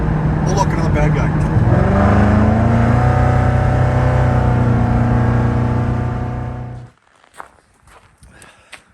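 A used police car's engine with a slight misfire drones and accelerates, loud and close, for about seven seconds before cutting off to near silence with a few faint knocks.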